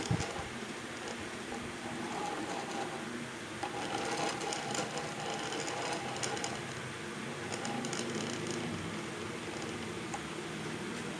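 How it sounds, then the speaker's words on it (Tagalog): An electric fan motor coil rewinding machine runs steadily close by, a continuous mechanical whir with rapid ticking and rattling that holds level for about eleven seconds without talk. "iset muna natin yung ating rewinding machine"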